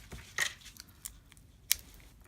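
Scissors trimming loose string ends on a stamping craft project, a few sharp isolated snips close by, separated by quiet pauses, with no voice.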